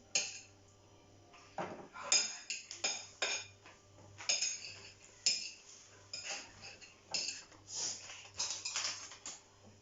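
A knife cuts up an onion in a series of sharp, irregular taps and clacks against a board, close by, with short pauses between bursts of chopping and no speech.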